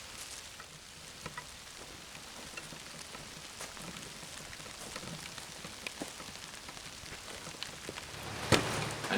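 Steady rain patters on deep garden mulch around fresh transplants, a soft continuous hiss with scattered close drops and a brief louder splash near the end; no talking.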